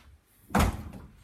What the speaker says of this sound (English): So you just tap your card there, the door opens